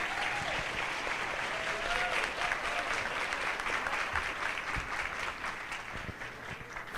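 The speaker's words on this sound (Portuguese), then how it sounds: "E mais aplausos, por favor, gente" A lecture audience applauds speaker Rossandro Klinjey after a talk on family challenges in the 21st century, sustained even clapping from a large crowd that continues for about seven seconds and fades slightly at the end.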